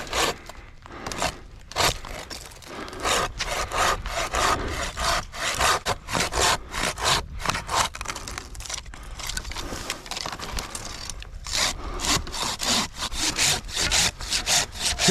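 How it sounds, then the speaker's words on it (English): A hand saw cuts through wood in a steady back-and-forth rhythm, each stroke a rasping scrape, close and loud, continuing without pause and with no voices. "warming my hands up, is a little extra hand sawing"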